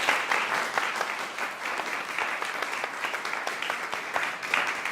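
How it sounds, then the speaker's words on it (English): An audience in a music masterclass breaks into steady, full applause, a dense even wash of clapping that holds for several seconds with no speech over it. "I think he deserves a round of applause"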